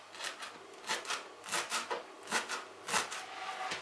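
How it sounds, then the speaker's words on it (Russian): A knife finely chops fresh dill on a cutting board, giving a run of quick, close, dry scraping strokes in an irregular rhythm. "Также мелко нарезаем укроп."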